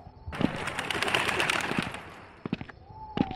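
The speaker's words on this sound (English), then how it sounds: "Birds." Birds coo repeatedly in a video game, a steady wash of soft calls and rustling ambience with sharper bursts toward the end, fairly near.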